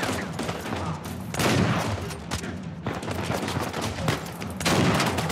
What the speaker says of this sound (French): Pas mal ce petit fusil à pompe.